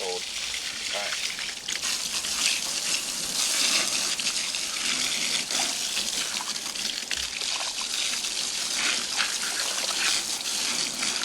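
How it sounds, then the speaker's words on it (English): Tap water runs steadily over flounder as it is cleaned in a sink, a continuous trickling and splashing stream with some faint voice activity behind it. "I don't want hot water all over my fish and wait for it to get cold."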